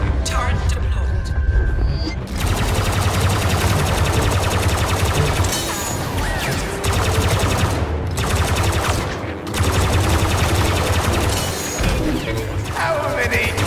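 Deployed turret firing in Star Wars Battlefront II, heroes versus villains at the palace hangar, dense rapid blaster bursts in long volleys with brief gaps, loud and close amid other battle noise, with voices talking over it.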